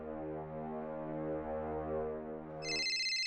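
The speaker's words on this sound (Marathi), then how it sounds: "फोन वाजतोय बघ तुझा." A mobile phone ringtone sounds indoors, with a sustained tonal melody giving way to a bright, repeating high-pitched ring near the end, moderately loud and without speech.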